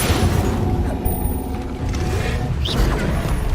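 Incendio fire spell cast in Hogwarts Legacy: a dense, loud roaring burst of flame with heavy low rumble sustained throughout, a brief whooshing flare near the end.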